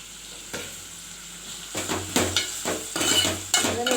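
Onions sauté in a pan for mutton kulambu, giving a steady soft sizzle with a spoon scraping and knocking against the metal in a few louder strokes, without talk.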